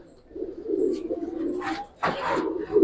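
Gribaz silver coloring pigeons coo softly and close by in low, rolling murmurs, with a couple of brief sharper calls or flutters near the end.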